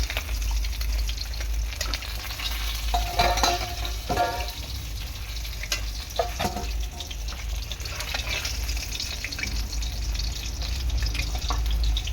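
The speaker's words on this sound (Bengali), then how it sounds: "ভালো করে লালচে লালচে করে মাছগুলো ভেজে নেব।" Pieces of rohu fish frying in hot oil give a dense, continuous sizzle and crackle, broken by occasional sharper spatters and stirring noises, over a low steady hum with no voices.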